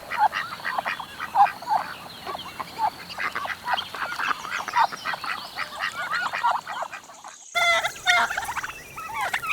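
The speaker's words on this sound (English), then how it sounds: "Duck." A duck quacks in a rapid, busy series of nasal calls, close and loud, with other fowl-like chatter blending in and a brief break before the calling resumes.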